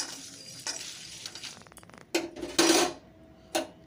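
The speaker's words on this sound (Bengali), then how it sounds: "এবার একটু নাড়াচাড়া করে মিশিয়ে নিই।" Whole spices, including cardamom and cloves, are stirred in a pan for kachori masala, with metallic scrapes and clinks of a spoon against the pan and a few louder knocks, close by and without talk.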